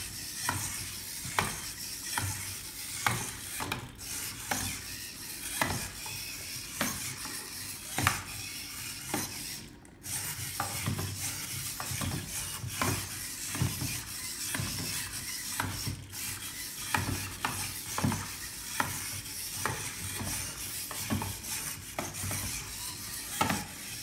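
Heavy duty digital ezrobot servos drive a walking robot, giving a steady, close run of rhythmic clicking and whirring strokes with each step, continuous for the whole stretch and with no talk.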